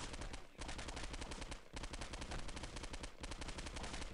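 Rapid automatic gunfire in the video game Postal 2, dense continuous bursts of shots aimed at the player with brief pauses between volleys, loud and close.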